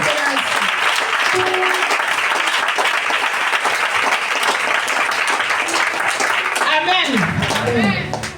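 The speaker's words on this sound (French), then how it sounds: "Acclame Jésus" A church congregation at a thanksgiving service applauds steadily and loudly for several seconds, with voices mixed into the clapping before it fades near the end.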